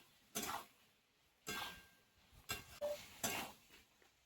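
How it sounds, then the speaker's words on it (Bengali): Spices and potatoes being stirred in a pan with chili powder, heard as four separate scraping, clattering bursts of a utensil against the pan, close and fairly quiet, with short silences between them. "লঙ্কা গুঁড়ো, সবকিছু মশলা দিয়ে আমি আলুর সঙ্গে ভালো করে একটু কষিয়ে নেব"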